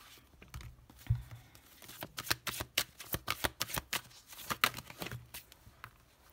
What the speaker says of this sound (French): on va maintenant prendre une carte de l'amour universel